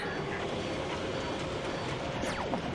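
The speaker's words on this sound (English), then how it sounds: "It's like a passenger train." Passenger train in the One Piece anime running across the sea: a steady rumbling rail roar with continuous wheel noise throughout and a brief rising whistle-like squeal near the end, fairly loud and with no talk.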